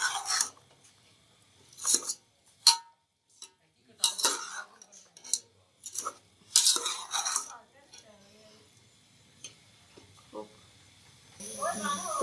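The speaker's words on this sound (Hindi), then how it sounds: "थोड़ा अच्छे से भूनेंगे" A spoon scrapes and clanks in a pan while chana chaat with tamarind pulp is stirred and roasted, coming in irregular close bursts with quiet gaps between them.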